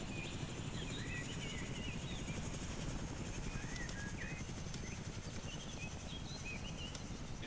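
Steady low rumble of an enemy helicopter droning in the distance in the game ArmA 3, continuous and even, with faint chirps and calls scattered above it.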